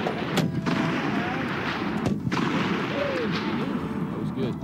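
Rifle shots crack on a shooting range in several sharp, loud reports a second or so apart, over a dense, noisy outdoor background with a voice speaking between them.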